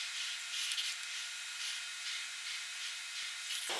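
A steam iron on the high setting hisses steadily while pressing fabric with iron-on fusing for a raw edge crazy quilt block, a broad continuous hiss with a few brief swells and a sharp end.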